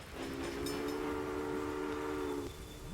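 A train in the Railway Empire video game pulls in, its steady two-tone horn holding for over two seconds over a constant rumble of moving cars, then cutting off as the rolling noise carries on.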